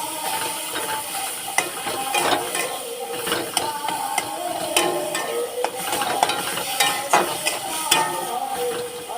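Ginger and garlic paste sizzles in a pan of spices while a utensil stirs and scrapes, steady frying hiss punctuated by repeated metallic clinks and scrapes, close and fairly loud.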